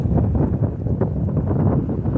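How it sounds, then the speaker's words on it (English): Strong wind at a desert campsite buffets the microphone in a loud, continuous low roar with gusty surges, close and unbroken. "And this is an unusually windy year."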